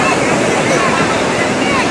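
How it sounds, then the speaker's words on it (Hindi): Sea waves wash onto the beach at Karachi in a continuous, loud roar of surf, with wind buffeting the microphone throughout. "ये साहले समुंदर की लहरें हैं"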